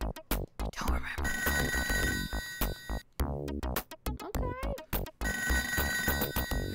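A telephone in the Toejam & Earl video game rings in rapid repeating electronic trills, loud and busy, layered with other game sounds and brief pauses.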